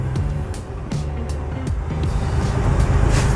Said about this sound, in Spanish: así como escuchan el motor, muy silencioso